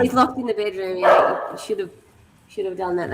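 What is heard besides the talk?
dog barking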